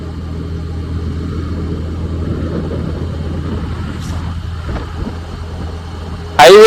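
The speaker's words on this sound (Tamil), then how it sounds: "வண்டி எவ்வளவு ஸ்மூத்தா ஓடிட்டு இருக்குன்னு பாருங்க." A vehicle cruises smoothly along a highway, with a steady low engine and road rumble heard from inside throughout, and a sudden louder burst at the very end.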